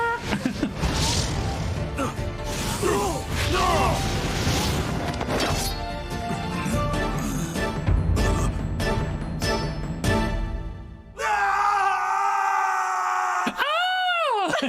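Dramatic crashes and thuds from the Ace Attorney: Spirit of Justice video game build into a scream, followed by rising and falling electronic sweeps near the end, loud and busy throughout with no talk.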